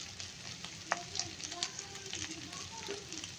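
Ginger-garlic paste with turmeric and chili powder sizzling in hot oil in a pan while being stirred, a steady low crackle with a few scraping clicks from the spatula.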